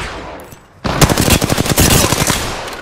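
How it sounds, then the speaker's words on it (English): Rapid incoming gunfire in the Apex Legends video game: a sudden burst of loud, closely spaced automatic shots that keeps going after a quieter opening. "I am taking fire, friend."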